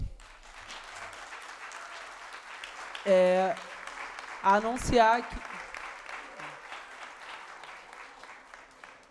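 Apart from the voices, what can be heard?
applause for Alexandre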